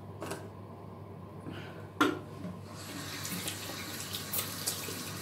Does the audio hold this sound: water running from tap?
yes